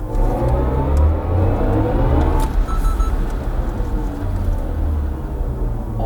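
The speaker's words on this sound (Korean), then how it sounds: "주행음이 뭔가 그런 우주선이 날아가거나 이런 느낌이라기보다는 미디 사운드 같아요" BMW i4 M50 electric car in sport mode, its synthetic electronic drive sound swelling loudly while accelerating along with road and tyre noise, a continuous close hum that rises then settles with no talking.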